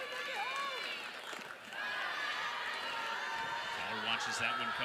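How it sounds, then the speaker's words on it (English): The crowd at Jack Turner Stadium murmurs, shouts and whistles continuously during a college softball game between Mississippi State and Georgia with two outs. A commentator talks over the noise. "Jack Turner Stadium crowd making noise here with 2 away."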